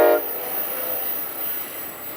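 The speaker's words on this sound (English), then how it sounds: "It's Metrolink. Okay, here's Metrolink 1162." Metrolink commuter train 1162 at Simi Valley, a short horn blast at the start, then a steady rumbling roar of cars rolling past close by.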